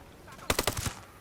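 Gunfire in the video game Ghost Recon Breakpoint: one quick rattling burst of about six shots, fairly faint and lasting under half a second, against a quiet game background.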